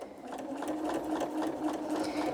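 A sewing machine stitches quilt pieces together for a quilted Santa cookie rug, a close, continuous rapid whir of needle strokes running steadily throughout.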